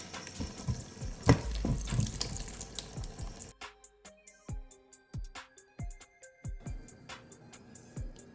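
Tap water runs into a kitchen sink as potatoes are washed, a steady splashing rush at first, then gives way to quieter intermittent drips and knocks of the potatoes being handled.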